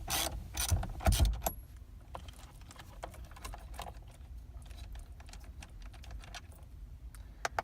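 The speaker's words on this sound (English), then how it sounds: "Continue removing the nut till it's all the way off." A nut is turned off a Grant Revolution airbag steering wheel shaft. Close, quiet metallic ratcheting clicks and tool taps come in a fast irregular run after a few louder knocks at the start, with no talking.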